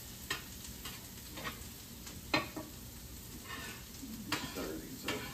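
Hash browns fry in a pan, a soft steady sizzle broken by several scraping stirs and light clinks of a utensil, heard close, with a voice speaking over part of it.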